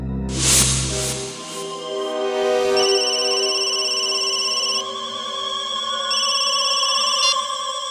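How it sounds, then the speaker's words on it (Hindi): A mobile phone ringing with an incoming call: a loud synthetic ringtone melody with sustained bright tones that shift pitch in steps, entering after a short noisy whoosh and playing on steadily. "उसके मोबाइल पर एक कॉल आया था"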